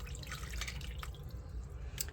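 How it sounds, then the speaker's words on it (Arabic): Water from a glass is poured over a tray of chicken and vegetables, giving a soft continuous splashing trickle with a few drips, quiet and without speech. "هجيب كوباية مية واحطها"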